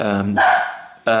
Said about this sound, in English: And that's my dog talking.